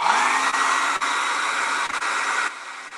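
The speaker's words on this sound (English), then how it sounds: "So let me give this a good blow dry." A blow dryer roars steadily at close range while drying freshly etched glass furniture, a loud, even airy whoosh with a few brief dips before it drops slightly in level near the end.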